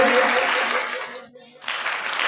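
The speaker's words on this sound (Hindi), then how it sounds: "जोरदार ताली हो जाए इस कलाकारा के लिए" Loud crowd applause at a school Republic Day cultural program for a student dancer, dense clapping that dips briefly in the middle and then resumes strongly, close and filling the space.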